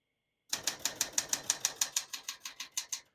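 A 1973 Smith-Corona Galaxie 12 portable typewriter types at a brisk, regular pace, about fifteen sharp, close keystrokes in a row after a brief silence, with no one talking.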